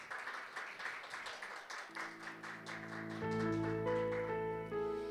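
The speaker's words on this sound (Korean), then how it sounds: "큰 박수 부탁드립니다." Audience applause at a startup event as a company is called to the stage, a steady wash of clapping under music that swells in partway through.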